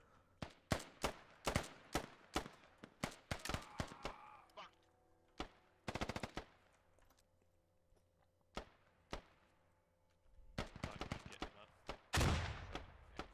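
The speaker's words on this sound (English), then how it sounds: "So he's getting shot at now. Back Nation returning fire." Rapid bursts of gunfire crack out during a military video game match, single shots and short volleys spread across the stretch, some sharp and near, others fainter, with a few quieter gaps between exchanges.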